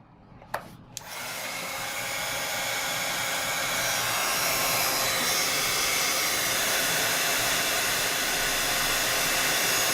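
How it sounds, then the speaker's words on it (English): A heat gun blows a steady, loud broadband whoosh to melt clear embossing powder during rubber-stamp crafting, starting after a couple of brief clicks and then running continuously and close without any voices. "Gonna pull out my heat gun one more time."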